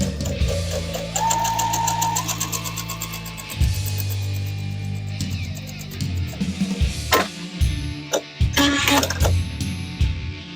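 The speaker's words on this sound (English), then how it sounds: "I'm going to stitch along that line." A sewing machine stitching quilt binding, its motor whirring loudly and steadily close by with brief pauses and handling clatter toward the end.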